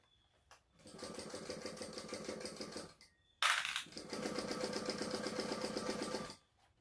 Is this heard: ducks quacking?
no